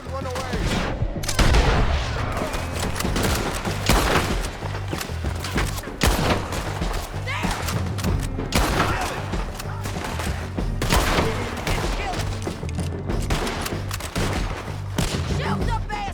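Dense, loud gunfire rattles through a Red Dead Redemption 2 shootout, with rapid overlapping shots and booming reports nearly continuous throughout, mixed with game sounds and occasional voices.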